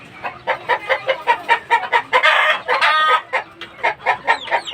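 A mother hen with her chicks clucks close by in a steady run of short, rhythmic calls, with a brief burst of louder, busier clucking partway through.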